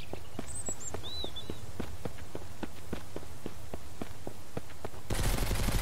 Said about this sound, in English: So they're shooting at me.